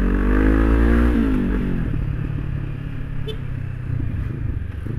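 A Honda CB500X 500 cc motorcycle accelerating on a test ride, its engine revving loud and close as the pitch climbs, then dropping into a steady rumble with wind noise.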